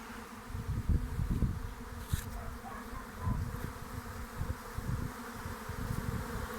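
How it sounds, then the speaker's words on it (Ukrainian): Dense, steady buzzing of a honeybee swarm, many insects humming close by with fluctuating intensity and no voices. "Більше є тут бджоли, думаю десь сядуть на гілку."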